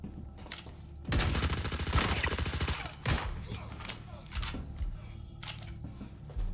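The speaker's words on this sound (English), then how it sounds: "Those shotguns hit so hard, bro." Shotguns firing in a Star Citizen firefight, several heavy booming blasts in a burst followed by a couple of scattered shots, loud and close amid game noise.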